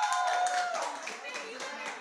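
A Zoom webinar audience claps in a short, slightly muffled patter of hand claps that fades over two seconds, with speech mixed in.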